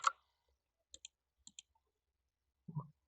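Several short clicks of typing on a computer keyboard, arriving as a couple of quick pairs of keystrokes spaced about half a second apart, with a brief louder knock at the start and a soft thump near the end.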